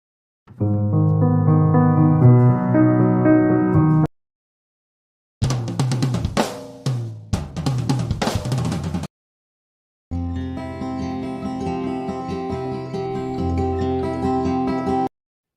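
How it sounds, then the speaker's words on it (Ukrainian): Three separate passages of instrumental music, each a few seconds long with pauses between: sustained tonal playing, then a busier plucked or struck section, then more sustained notes. "Це звуки музичних інструментів."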